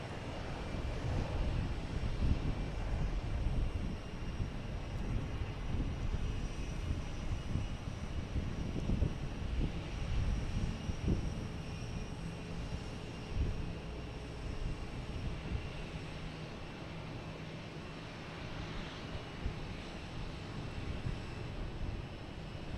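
An American Airlines Embraer E175 jet takes off, its engine roar rising then slowly fading over about twenty seconds, with wind buffeting the microphone and no voices.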